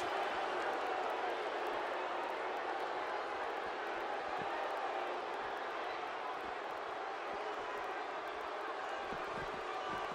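Sold-out crowd at a no-disqualification pro wrestling match, a dense, steady roar of cheering and noise filling the arena at constant loudness throughout.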